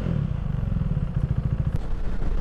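A KTM 390 Duke single-cylinder motorcycle engine idles close by, a low, throbbing putter with quick regular pulses and a slight rise and settle in tone.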